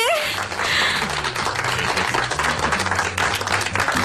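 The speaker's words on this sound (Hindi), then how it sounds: "हाँ, क्या आप लोग तालियां बजाएंगे?" An audience clapping at a light-hearted chili-eating moment, a dense, continuous round of applause that is loud and steady for several seconds, with some voices mixed in.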